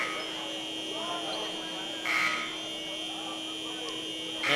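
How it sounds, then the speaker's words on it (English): A malfunctioning basketball arena buzzer sounds in short bursts over a constant electrical hum, one blast near the middle and another at the end, with gym noise and talk underneath. "And the buzzers continue to malfunction."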